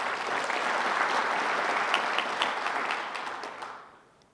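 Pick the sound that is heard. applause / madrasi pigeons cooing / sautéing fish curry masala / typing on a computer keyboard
applause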